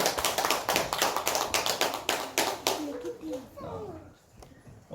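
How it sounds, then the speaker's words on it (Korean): Church congregation applauding a vocal ensemble at a Sunday service, dense hand clapping for about three seconds that then fades as a voice speaks over the dying applause. "우리 다시 한번 우리 중창단 위에서 큰 박수 주시기 바랍니다."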